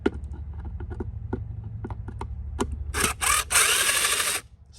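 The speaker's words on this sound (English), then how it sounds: "a drill with a Phillips attachment on it" A cordless drill with a Phillips bit backs screws out of a Bissell Pet Hair Eraser dirt canister: a series of short clicks and taps, then several loud, close whirring bursts of the drill spinning.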